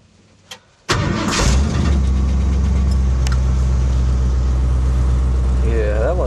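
A 1979 Ford F150 with an electric fuel pump and choke cranks briefly, then catches and settles into a loud, steady idle close by, with a short rising rev near the end.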